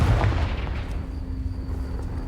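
A Confringo fire spell explosion in Hogwarts Legacy, a loud booming blast at the start that decays into a rumbling tail with a faint sustained tone, close and without talk.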